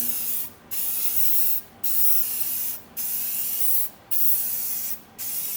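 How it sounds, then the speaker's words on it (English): Aerosol clear coat sprayed onto laser-engraved wood in five even, hissing bursts of about a second each, separated by short gaps, loud and close with no talking. "Just give it a nice even clear coating."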